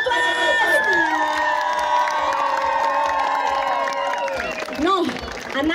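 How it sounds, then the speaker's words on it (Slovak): A concert crowd in Devínska cheers and shouts for a singer, loud and close, with sustained voices and light clapping blending into an excited roar. "veľký potlesk!"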